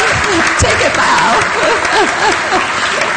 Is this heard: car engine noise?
no